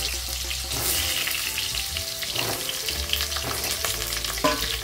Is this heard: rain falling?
no